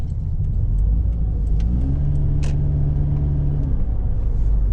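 A Scion tC fitted with a Borla S-Type muffler rumbles at close range, a steady low exhaust drone that briefly rises in pitch as the engine revs, with faint clicks over it.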